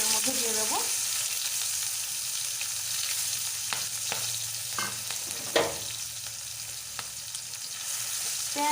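Chopped onion and green chilli fry in hot oil in a pan, a steady broadband sizzle running throughout, with a few faint clicks and scrapes of stirring and no voices.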